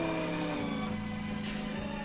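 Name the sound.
car engine revving in a high-speed car chase, video game Gravity Bone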